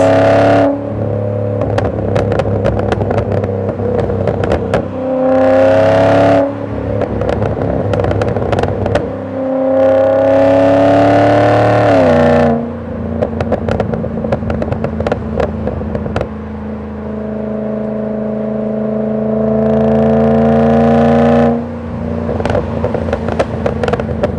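Volvo S80 V8 fitted with a custom exhaust, accelerating through traffic in loud repeated surges, each deep roar climbing in pitch with crackling pops between pulls, heard close and without talk.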